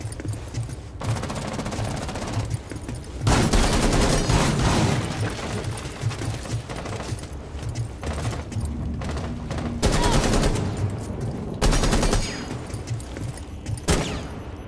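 Rapid bursts of automatic gunfire and blasts from Rainbow Six Siege gameplay, loud and sustained with short pauses between volleys across the whole stretch.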